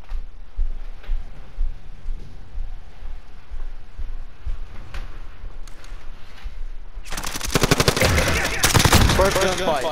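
Call of Duty: Modern Warfare M4 rifle gunfire: rapid, loud automatic bursts that erupt near the end after a stretch of quieter in-game ambience and scattered faint shots.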